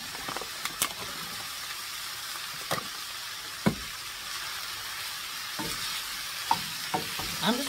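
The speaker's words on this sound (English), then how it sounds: "we're just going to saute this down and where the onions become translucent" Onions sauté in a pan with a steady, moderate sizzle. Occasional sharp clicks and scrapes of stirring punctuate it, and no one speaks.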